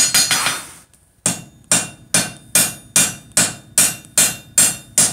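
A hammer strikes hot metal about ten times in a steady rhythm while forging box jaw tongs, each ringing blow loud and close after a brief pause.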